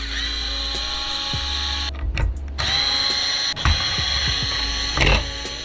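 A power screwdriver backs out Phillips screws in several short whirring bursts separated by brief pauses, close and fairly loud over a steady background hum.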